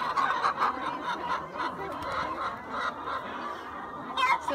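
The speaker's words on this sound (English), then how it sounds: "So is this the Wyandotte chicken that she was talking about?" A Wyandotte chicken being held on a farm gives off clucking and squawking calls, fairly close and moderately loud, with a sharper burst near the end and people talking in the background.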